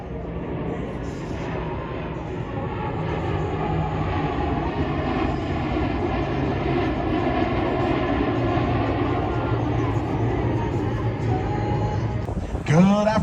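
A steady, heavy aircraft engine rumble at an air show, a dense continuous roar held throughout, with an announcer's voice over it and a rising whoosh near the end.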